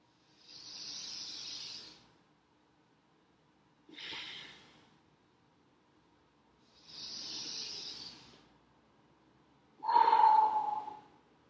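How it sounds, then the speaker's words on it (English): Slow, deliberate breaths during chair yoga at a desk: four long airy inhales and exhales, each about a second or two long and spaced by pauses, heard close and clear with no talking. "Flowing with your own breath, inhaling"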